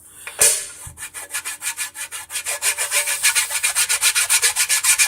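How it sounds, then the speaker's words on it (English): Hand sanding over a painted surface to remove grinder marks, a close, loud series of rhythmic back-and-forth rasping strokes that speed up into a steady regular beat. "You can even see some of the grinder marks in there that I'm trying to sand out."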